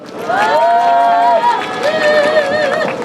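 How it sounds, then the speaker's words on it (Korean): At a rally for residents of disability care facilities, a crowd welcomes a speaker with loud cheering: sustained voices and whoops rise over background clapping and hubbub for about three seconds. "박수로 환영해 주십시오."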